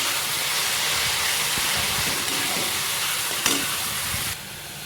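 Chopped tomatoes hit a hot oiled pan for raw banana sabzi, giving a steady broad sizzle that holds for several seconds with a faint clink partway, then drops a little quieter near the end; no talking.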